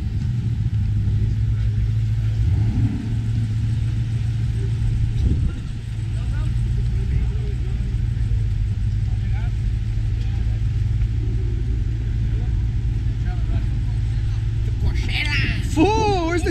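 A heavy vehicle engine rumbles steadily and close, a low drone throughout with talk layered over it and a brief rising whine near the end.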